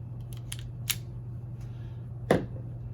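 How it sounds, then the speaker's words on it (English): The trimmer on a Braun electric shaver slides up with a few small, crisp plastic clicks and one sharper snap, heard close over a steady low hum. "you'll slide the trimmer up like so"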